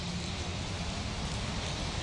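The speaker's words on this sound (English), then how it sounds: "it's already started raining here, Pete." Steady rain falls outdoors in Baldwin County ahead of severe weather, a dense continuous hiss of drops with no pauses, moderately loud and heard alone.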